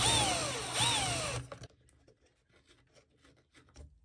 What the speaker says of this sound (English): So I'll drill those two out.